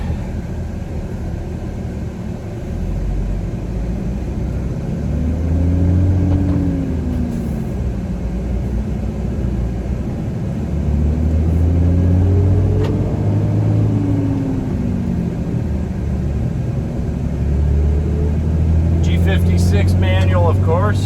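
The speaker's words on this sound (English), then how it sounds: "Give this truck a little highway run." Continuous engine drone and road rumble from a 2009 pickup truck with a 6.7 Cummins diesel and G56 manual cruising on the highway, gear shifts rising and falling in pitch, with wind noise and a brief rattle near the end.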